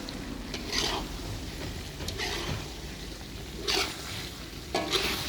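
Chicken liver and gizzards stir-fried with green chilies in a spicy sauté, a steady sizzle broken by spatula scrapes and stirring bursts every second or so, close and moderately loud.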